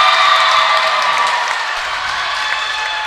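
A volleyball crowd at a varsity high school match cheers and applauds in a sustained, bright roar that swells at first and then holds steady, heard fairly close without talk over it.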